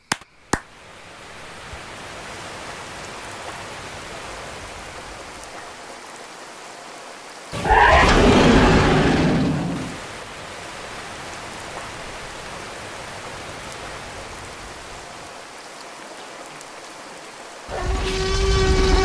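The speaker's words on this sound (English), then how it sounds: "Rain start." Rain falls in a steady soft hiss, broken by two louder, rougher bursts of noise that rise sharply and then fade back to the constant patter.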